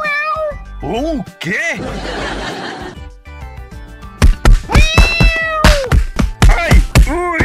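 An animated cartoon cat yowls and meows in several loud, strained cries, mixed with thumps and clatter of a chaotic scene, while voices speak briefly between the cries.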